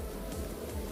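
Honey bees hum steadily around a queen bee during a hive split, a dense close buzzing that fills the whole second without pause.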